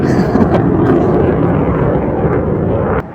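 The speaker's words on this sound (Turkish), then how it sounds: "Yine bir savaş uçağı geliyor." A fighter jet sweeps past very close over Bozcaada in October, a loud continuous roaring rumble that holds for about three seconds and then drops away sharply.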